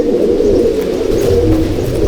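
Pigeons in a loft coo loud and close in a continuous, overlapping stream of throaty low calls, with no one speaking.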